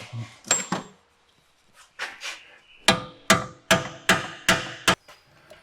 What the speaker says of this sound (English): I'll take my hammer and I'll knock these in